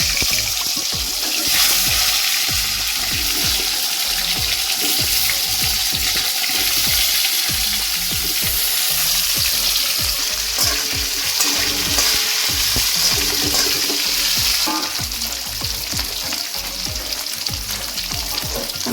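Potatoes sizzle in hot oil with cumin in a wok, a loud, dense, continuous frying hiss with scattered crackles and stirring clatter running steadily throughout, no voices.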